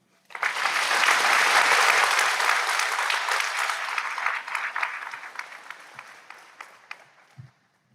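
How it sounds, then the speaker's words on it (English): A large crowd at a high school graduation ceremony applauds its valedictorians, dense sustained clapping that rises quickly, holds loud for several seconds, then thins out and fades to scattered claps. "Once again, one more round of applause"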